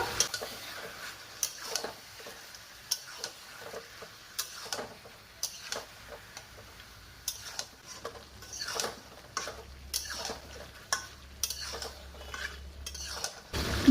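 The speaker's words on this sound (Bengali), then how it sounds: "লবণ দিয়ে কিছুক্ষণ কষে নেব" Chicken and potato curry with salt being stirred in a pan, soft scraping and light metallic clinks of a spoon against the pan at an irregular rhythm, fairly quiet with a faint low sizzle.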